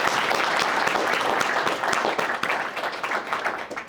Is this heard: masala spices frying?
no